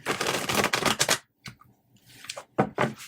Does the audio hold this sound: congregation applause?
no